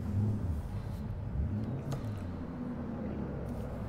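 A Lamborghini Urus engine in the video game Forza Horizon 5 rumbles steadily at a low pitch, a continuous droning hum with slight swells, as if idling or cruising, with no voices.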